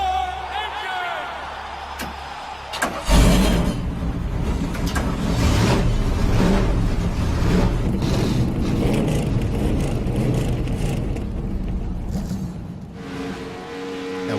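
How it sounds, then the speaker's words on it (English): Race car engines in a Darlington cup series race start up all at once with a sudden loud roar. A dense, sustained rumble of many motors follows and holds steady for over ten seconds. "Gentlemen, start your engine!"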